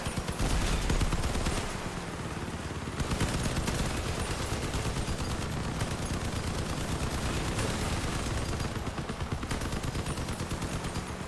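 Sustained machine gun fire in the vehicle combat game Crossout, dense and continuous for the whole stretch, loud and close, with a brief dip near the start before the rapid bursts resume, and no talking.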